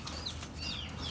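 A short burst of wings flapping close by, a soft fluttering rush of three Royal Teddi pigeons released together.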